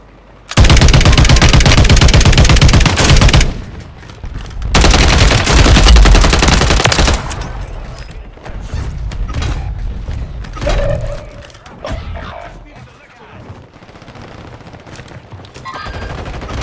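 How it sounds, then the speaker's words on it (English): Gunfire in the video game Apex Legends comes as two long, loud bursts of rapid automatic fire, followed by scattered lighter shots and thumps that fade toward the end. "who the fuck was shooting at me?"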